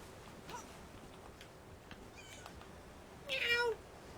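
A cat in Elder Scrolls Online gives a clear, rising-and-falling meow near the end, louder than the faint ambient background and the soft scattered clicks before it, with no voices.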